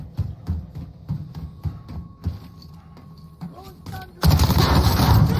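Rapid bursts of Call of Duty gunfire crack out in a steady rhythm, then a loud, dense burst of automatic fire and explosion noise takes over near the end, with brief voices in between.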